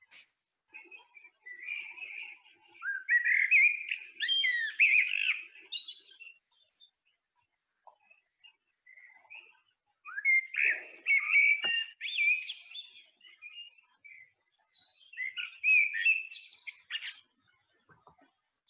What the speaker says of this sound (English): So let's have a listen to the blackbird.